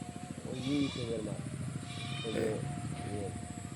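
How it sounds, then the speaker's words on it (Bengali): Goats bleating in a rural field beside paddy plots, several nearby calls rising and falling in short bursts, heard over people talking. "এত ছাগল কার"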